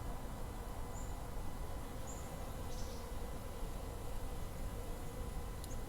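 Slow-moving honey bees at a hive in a subarctic apiary, a faint, even buzz held steady under soft background noise, with no talking.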